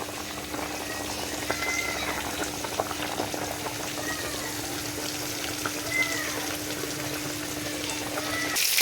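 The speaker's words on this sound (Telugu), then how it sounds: "చేపల పులుసు మరుగుతుంది." Fish pulusu, a tangy fish curry, bubbles in a pot on the stove, giving a steady close simmering with small popping bubbles throughout.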